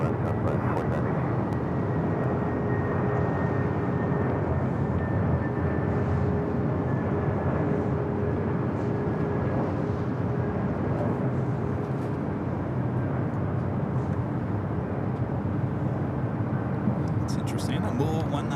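A Southwest airliner rolls for takeoff on runway 24 left at LAX, a loud, steady jet roar that holds constant throughout with a faint whining tone, heard from nearby.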